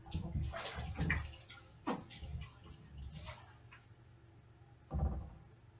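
Water sloshing and splashing in a ritual bath as a person is immersed, with irregular swishes and a louder splash near the end, fairly close and with no talk.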